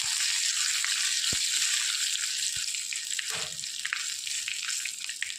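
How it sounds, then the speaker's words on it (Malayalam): Two dried red chillies fry in hot oil for a Kerala-style shallot curry, giving a steady bright sizzle, close and continuous, with a few soft knocks from the pan. "വറ്റൽമുളക് നന്നായിട്ട് മൂത്ത് വരട്ടെ."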